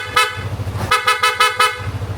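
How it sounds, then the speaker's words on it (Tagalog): A PIAA aftermarket horn fitted to a scooter such as an NMAX, Click 160 or PCX 160 sounds in a series of short, loud, close honks: one longer blast, then several quick toots. "Tapos may busina, hindi pa pogi. Kinabitan namin ng PIAA."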